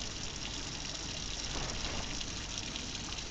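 Water runs steadily from a tap in the horror video game Hollow Cocoon, a continuous broad gushing hiss that holds level throughout with no voices.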